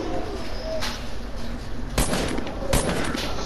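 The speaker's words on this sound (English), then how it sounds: "I'm getting shot at." Video game gunfire in a squad shooter, with sharp broadband bursts around two and three seconds cutting through steady background noise, with a smaller crack earlier on.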